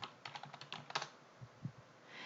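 A file name is typed on a computer keyboard during an Excel exam exercise: a quick run of soft, close keystrokes, then a few slower, separate presses, with no one speaking.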